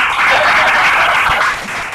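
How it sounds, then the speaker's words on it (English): Audience applause for a panelist at a real estate producers' panel event: a dense, steady wash of clapping lasting about two seconds, fairly loud, then easing slightly near the end. "Let's give Chris a round of applause."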